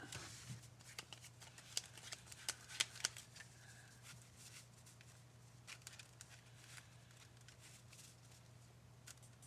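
Pokémon trading cards are drawn and flicked from a deck, giving faint, quick papery snaps and shuffles scattered across a quiet room.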